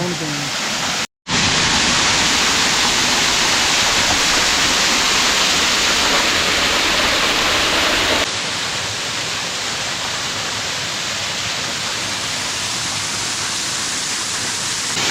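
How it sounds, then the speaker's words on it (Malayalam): A waterfall in Mechuka, Arunachal Pradesh, roars steadily, a dense broadband rush of falling water that fills the whole clip, briefly cutting out near the start and dropping slightly partway through. "ഇത്രയും ബ്യൂട്ടിഫുൾ ആയിട്ടുള്ള ഒരു വെള്ളച്ചാട്ടം ഇവിടെ നിന്ന് കിട്ടുമെന്ന് ഞാൻ പ്രതീക്ഷിച്ചില്ലേ"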